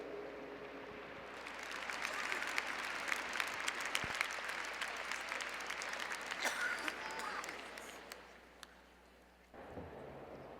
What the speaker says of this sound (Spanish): les pido por último un gran aplauso para la doctora y un gran aplauso para ustedes.